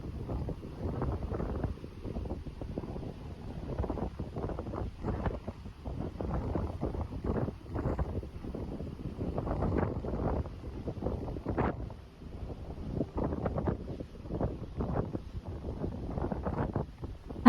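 Wind gusts buffet the microphone on the outside deck of the passenger ship KM Dorolonda in the morning, a steady rushing roar with fluttering bursts and a faint low hum of the vessel underneath.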